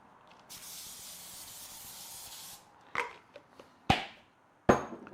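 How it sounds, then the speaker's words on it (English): Oil sprayed from a can onto an oven tray, one long steady hiss lasting about two seconds, followed by a few sharp clatters as pieces are laid down nearby. "I'll spray some oil."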